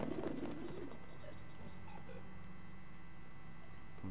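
Pigeons cooing in a short, soft burst of low throaty coos at the very start, fading into a steady background hum with no one speaking.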